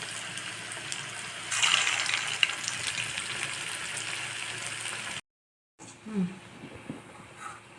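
Sabudana bondas deep-fry in hot oil with a close, steady bubbling sizzle that swells briefly, then cuts to silence before softer kitchen clatter and faint movement.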